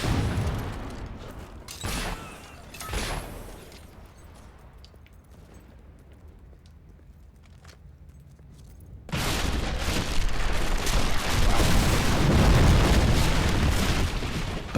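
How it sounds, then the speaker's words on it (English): Enemy gunfire and booming explosions in a Fable 3 battle, with sharp bursts early on, a quieter stretch, then a sustained loud barrage of blasts and shots. "The enemy shooting."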